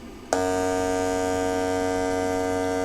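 A homemade inverter with a transformer hums loudly and steadily after a sudden switch-on, a constant tonal drone with strong harmonics running alone without a break.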